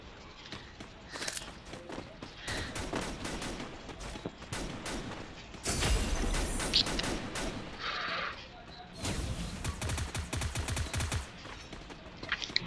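Rapid bursts of Thompson submachine gun fire from a Free Fire battle royale ranked match, repeated volleys of close, loud shots with footsteps and game effects between them, and no one speaking.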